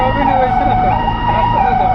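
An ICU ambulance from Mount Adora Hospital arrives with its siren wailing, a steady loud wavering tone sounding continuously throughout, with voices faintly mixed in underneath.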